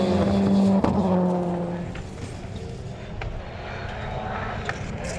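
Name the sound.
rallycross race car changing down gears into a hairpin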